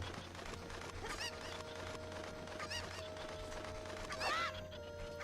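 Chickens clucking in the video game Zelda: Ocarina of Time on GameCube, a busy layer of bird calls and squawks over steady game background music, with a louder honking squawk near the end.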